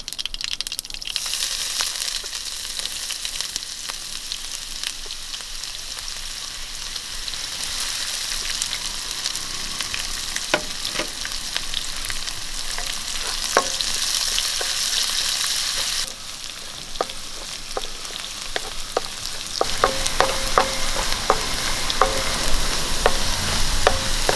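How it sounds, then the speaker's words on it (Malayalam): Mustard seeds with chopped ginger and garlic fry in hot oil for a Kerala-style rose apple pickle, a steady dense sizzle with scattered crackling pops that grows a little louder near the end, no voices. "ഒരു അര സ്പൂണ് കടുക് ഇട്ട് കൊടുക്കാം നമുക്ക് കുറച്ച് ഇഞ്ചി വെളുത്തുള്ളി അരിഞ്ഞായിട്ട് കൊടുക്കാം"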